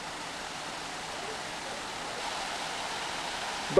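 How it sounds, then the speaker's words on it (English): Steady broadband rush of a flowing river beside a road in the Dominican Republic, an even, continuous wash of water heard from nearby with no clear voices over it. "it is attractive nonetheless to have flowing water."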